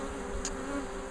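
Honeybees in a winter cleansing flight buzz steadily around a hive while robbing another colony, a continuous close insect drone lasting about a second.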